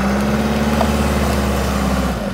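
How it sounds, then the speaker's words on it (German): A car engine running in freezing winter weather right after it catches, a close, steady low idle with a faint hum that drops slightly at the end, no voices. "Guck mal, der Motor springt ja an."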